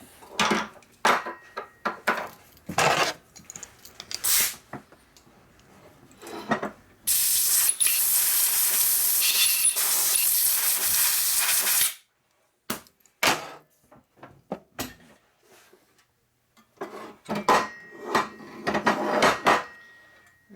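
An air-powered bead blaster cleans a 1951 Harley-Davidson Panhead motorcycle engine case, giving a loud, steady hiss that runs for about five seconds between scattered clunks and handling knocks of the part inside the cabinet.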